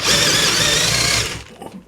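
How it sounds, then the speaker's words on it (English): Power drill boring a hole through polystyrene, a loud, close, high-pitched whirring whine that holds steady, then winds down and stops with a brief rustle. "So I'm going to drill a hole."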